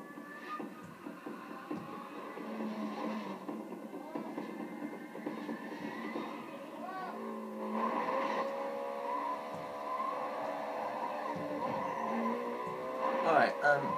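Race cars roar through the last race in Need for Speed Carbon, a continuous droning engine whine that rises and shifts in pitch throughout, with a voice talking over it.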